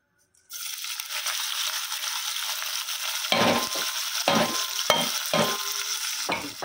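Green chillies and small onions frying in hot oil, a steady loud sizzle that starts abruptly, with several sharp stirring scrapes and rattles against the pan partway through, close up.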